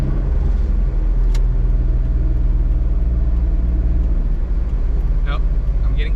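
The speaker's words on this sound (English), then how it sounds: "I also noticed the turbo noises are a lot louder than they used to be." An Autozam AZ-1 with a turbo engine, HKS EVC boost controller and Monstersport N1 ECU drones loudly and steadily up close, with brief airy turbo whooshes breaking through twice.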